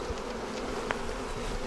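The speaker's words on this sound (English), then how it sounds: "Now understandably the bees are getting annoyed" Honey bees buzz steadily around an opened hive during a split in the rain, a dense, continuous drone close by with no talking.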